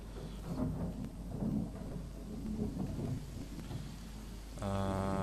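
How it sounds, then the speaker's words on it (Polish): A thunderstorm in the survival game The Forest rumbles low and steady with rain hiss for several seconds, followed by a sudden tonal game sound at the end. "O, jeszcze burza, zajebiście"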